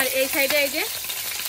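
Cut taro pieces sautéed in hot oil in a pan, a steady sizzling fry with a stirring scrape, while someone speaks briefly over it.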